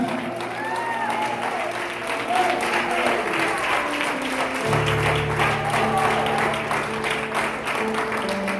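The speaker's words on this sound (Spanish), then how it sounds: "Con un aplauso al Señor esta mañana." A church congregation claps in sustained, dense applause at steady volume, with sung or played musical tones ringing beneath it.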